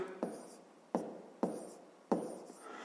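Handwriting a math solution in a notebook, four distinct pen strokes with scratchy onsets spaced roughly half a second apart, close and quiet, no talking over it.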